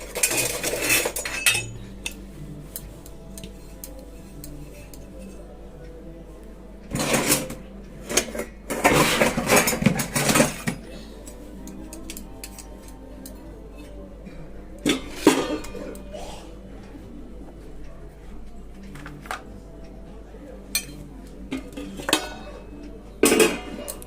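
Rice and fish dishes served out of a pot into bowls with metal utensils, loud clinks and scrapes coming in bursts close by, separated by quieter stretches with no talking.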